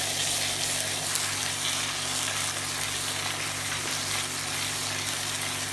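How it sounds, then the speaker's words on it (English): Ginger garlic paste, turmeric and onion with spices frying in a pan, giving a steady, loud, close sizzle with a low hum underneath and no pauses. "we have fried our ginger and garlic paste along with turmeric and onion for 3-4 minutes"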